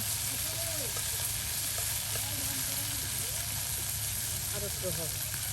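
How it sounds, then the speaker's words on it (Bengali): Dried fish sizzles as it fries with onion and garlic in a pan, a dense, steady crackle running throughout, with a voice faintly audible underneath. "এই যে দেখুন শুটকিগুলো একদম সুন্দর করে আর সেই পেঁয়াজ রসুনের সাথে ভেজে নেওয়া হচ্ছে।"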